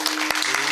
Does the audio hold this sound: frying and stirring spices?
no